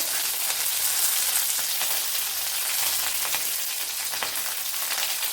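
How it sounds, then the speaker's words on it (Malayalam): Curry leaves sizzle loudly in hot oil after mustard seeds have popped, a dense continuous crackling hiss heard up close with no voices. "കറി ലീവ്സ് ഇട്ട് കൊടുക്കുക."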